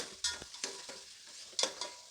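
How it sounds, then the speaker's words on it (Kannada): Onions roasting in a pan for chicken biryani, a soft steady sizzle broken by several scraping stirs of a spoon, close and fairly quiet, with no talking. "ನೋಡಿ, ಈರುಳ್ಳಿ ಇಲ್ಲಿ ಚೆನ್ನಾಗಿ ರೋಸ್ಟ್ ಆಗಿದೆ."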